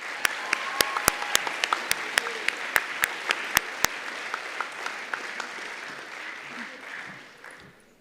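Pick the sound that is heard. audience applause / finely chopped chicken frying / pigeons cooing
audience applause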